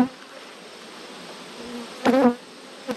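Honeybees in a bee yard buzz around an unveiled beekeeper, a steady drone of insects with one loud, close buzz passing by near the ear before fading back to the quieter hum.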